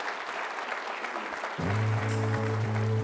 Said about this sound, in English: a big round of applause for the folks behind the scenes